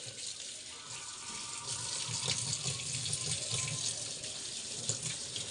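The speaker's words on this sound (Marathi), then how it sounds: "नळाखाली खाली खळाखळा धुवून घेते" Fish is rinsed under a running kitchen tap, a steady close splash of flowing water with soft irregular sloshes as the pieces are handled in the stream.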